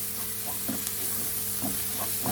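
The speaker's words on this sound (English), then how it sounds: "I'm going to keep mixing so nothing burns or sticks to the bottom" Spices for chicken korma stirred in a non-stick pan over a soft continuous sizzle, with scraping strokes of the spoon repeating at an uneven rhythm, close and fairly quiet.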